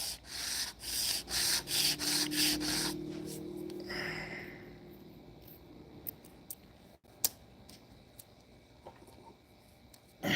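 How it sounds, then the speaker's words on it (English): Repeated rhythmic sanding strokes, loud and close, in a steady series, then quieter scattered scraping and a few sharp clicks. "And yes, Shane, you are watching a live of me sanding parts"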